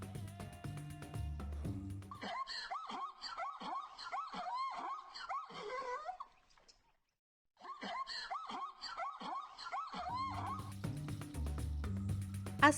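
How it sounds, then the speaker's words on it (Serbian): A zebra brays in a rapid series of barking, yelping calls, pausing briefly in the middle before the calls resume, loud and close. "Čujte sada zebru."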